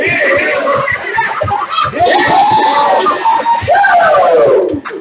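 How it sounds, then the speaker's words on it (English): A game show audience cheers and shouts for contestants during a live stream, a loud sustained roar of excited voices swelling and dipping over several seconds. "Cheer them on, everyone!"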